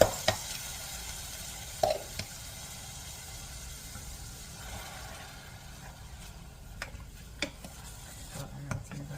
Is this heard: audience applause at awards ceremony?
no